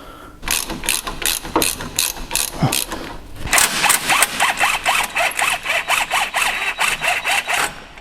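Close, loud ratchet wrench clicking in quick repeated bursts while loosening a control arm bolt on a Jeep Wrangler, with a short pause mid-way before faster ratcheting resumes.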